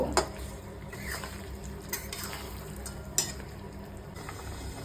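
Chicken fries in plenty of oil and is stirred, making a steady, close sizzle with a few sharp scraping knocks from the stirring.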